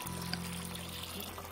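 Water pours steadily into a bath in the Vacation Simulator VR game, a faint continuous trickling stream heard over a low background hum.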